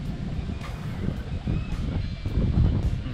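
Wind on an outdoor fishing trip buffets the microphone in a low, uneven rumble that surges and fades, growing stronger toward the end.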